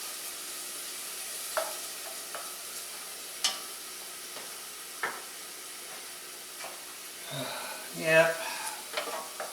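Four cloves of garlic sizzle softly in a pan while being stirred, with scattered scraping clicks from the utensil and a brief voice near the end.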